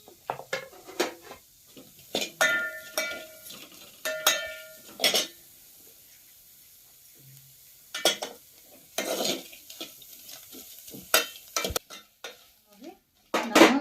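Onions dry-roasted in a pan with no oil while making brinjal palya: bursts of spatula stirring and scraping with light clinks against the pan, pausing and resuming, with no talk.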